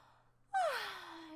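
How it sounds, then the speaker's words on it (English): A person fakes a yawn, starting with a short breathy intake and then a single drawn-out, voiced exhale that slides downward in pitch before trailing off. "I can't do a fake yawn very well"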